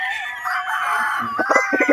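A pure claret broodcock rooster crows up close, a loud drawn-out call followed by a few short clucking notes.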